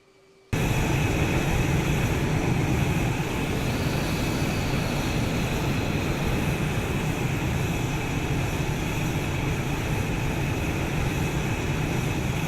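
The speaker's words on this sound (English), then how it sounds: "Hornet 2-3, taxi." An F/A-18 Hornet taxiing in the Falcon BMS flight simulator game, its jet engines giving a loud, steady whine and roar that starts abruptly and holds constant throughout, with no talk.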